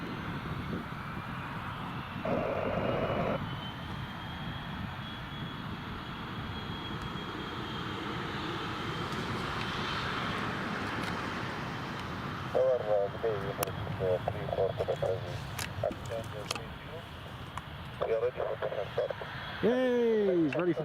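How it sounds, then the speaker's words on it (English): Business jet taxiing at Newcastle International Airport, a steady broad engine roar running throughout, with voices and radio-like chatter breaking in over it. "Business jet is just taxiing now."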